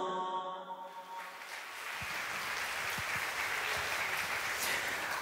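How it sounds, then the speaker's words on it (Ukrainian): Audience applause at a nasheed concert swells in after a fading sung note, settling into steady, moderately distant clapping with a few sharper claps standing out. "Еще раз ваши громкие аплодисменты"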